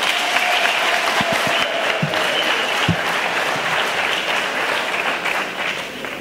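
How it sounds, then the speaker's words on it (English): An audience applauds at the launch of Mapenane Secondary, a Gauteng Department of Education school of specialisation, with a continuous dense wash of clapping that holds steady and tapers slightly toward the end, a few sharper individual claps standing out. "let's give MEC another round of applause."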